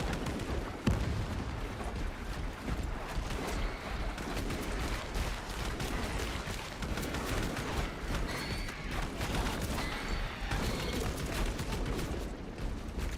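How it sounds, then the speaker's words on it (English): Chaotic Space Marine 2 video game combat with a frag grenade blast, dense booming explosions and rapid gunfire crackling continuously and loudly throughout. "Using frag grenade."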